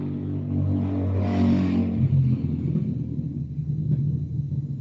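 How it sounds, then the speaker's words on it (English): Engine revving from an Intellivision Amico video game, a deep rumbling motorcycle-like roar that swells and then settles into a rough, sputtering idle, loud and steady with no talking. "That sounded like a motorcycle."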